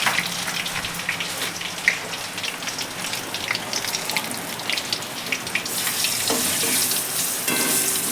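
Bay leaves and dried red chillies frying in hot oil give a dense, continuous crackling sizzle, close and fairly loud, swelling slightly brighter near the end with no voices.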